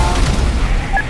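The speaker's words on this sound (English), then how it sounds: "reporting a vehicle explosion." A vehicle explodes in GTA 5 with a loud, dense boom and rumbling roar that fills about a second, close and noisy.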